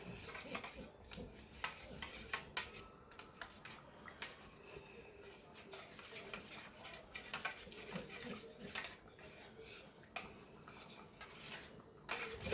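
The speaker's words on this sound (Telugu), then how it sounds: "కొన్ని హాట్ వాటర్ వేసి వేసి కలుపుకున్నామండి" A mixture is stirred with hot water in a bowl until smooth for a Kerala fish molly. A spoon scrapes and clinks in quiet repeated strokes, fairly faint and close, with no talking.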